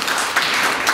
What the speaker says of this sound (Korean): 주현 대표님께 박수 한번 부탁드리겠습니다